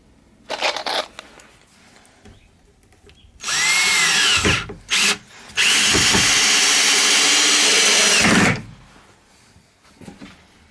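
A power drill drives 2.5-inch screws through thin van floor sheet metal under a rubber mat, with two long loud whirring bursts and a short one in between, preceded by softer handling clatter.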